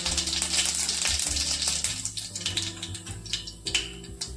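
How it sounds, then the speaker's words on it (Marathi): Mustard seeds and cumin dropped into hot oil, a loud continuous sizzle with crackling and popping that gradually thins out, no talking. "तेल आपलं छान गरम झालंय त्यात घालतोय आपण मोहरी त्यानंतर जिरे"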